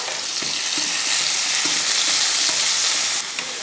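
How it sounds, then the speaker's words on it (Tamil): Onion, garlic and ginger fry in a pan with a steady, close sizzle, and a few soft stirring scrapes come through on their own with no voices. "இப்போ வறுத்துடலாம் வெங்காயமும் பூண்டு இஞ்சி நல்லா வதங்கினதுக்கப்புறமா"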